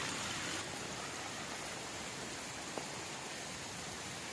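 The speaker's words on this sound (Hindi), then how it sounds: "ये बारिश हो गई है और बारिश माशाल्लाह काफ़ी अच्छी हो रही है" Heavy rain pours steadily over a eucalyptus forest and lemon plants, a dense, even hiss without pauses and no voices.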